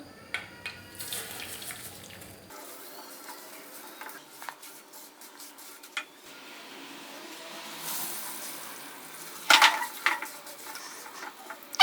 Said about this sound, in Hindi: उसी ऑयल के अंदर हम अपने दलिये को थोड़ा सा पका लेंगे।